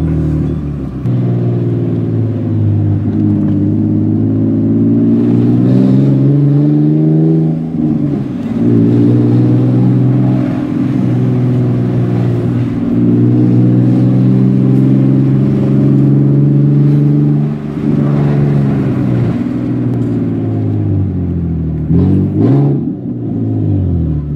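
A Nissan 370Z with a straight-pipe exhaust idles low and steady, then revs up and settles several times, a deep rumbling drone throughout with no talking.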